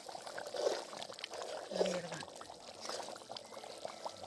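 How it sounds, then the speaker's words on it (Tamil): Jilebi fish caught from a lake go into a boiling fish curry on a wood-fired stove, with faint splashes and liquid pouring sounds under people talking. "குழம்பு நல்லா கொதிச்சு இப்போது மீனை போட்டுடலாம்"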